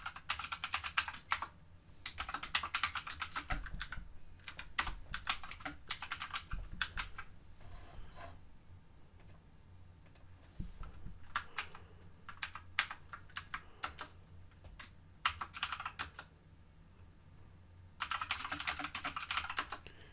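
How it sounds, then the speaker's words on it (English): Rapid clicking of keys on a computer keyboard, typed in bursts with short pauses between, close and fairly quiet, no voices. "when I type something on the keyboard"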